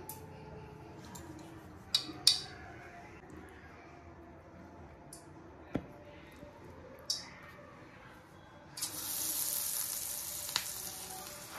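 Banana flower pieces dropped into hot oil over a low flame. A few soft clicks and taps come first, then a steady bright sizzle rises near the end and keeps going at moderate volume with no talk.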